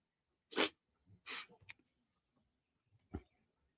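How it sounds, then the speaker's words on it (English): A few short, sharp sneeze-like bursts in quick succession, close and fairly quiet, followed by a fainter one after a pause. "I need to sneeze."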